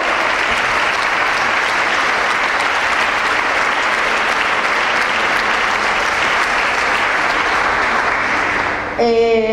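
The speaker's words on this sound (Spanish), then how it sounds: "les voy a pedir un aplauso para las compañeras que voy a presentar ahora" Loud, dense applause from an audience at a women's gathering greeting the speakers about to be introduced, sustained and even for about nine seconds before a voice cuts in at the end.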